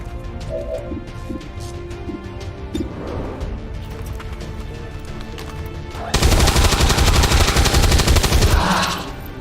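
Rapid automatic gunfire in a shooting video game, with scattered shots at first and then a loud, dense burst of sustained fire for about three seconds before it cuts off.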